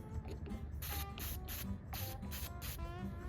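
WD-40 hisses from an aerosol can onto the sticky shifters of a recumbent bicycle in about six short, sharp bursts, faint and close, with light handling noises in between.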